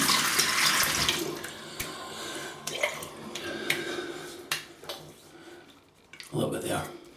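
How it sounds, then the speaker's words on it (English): An Edwin Jagger 3ONE6 safety razor is rinsed under a running tap at a sink, with close, steady water flow, splashes and light metallic clinks that ebb and surge. "let me have a little rinse"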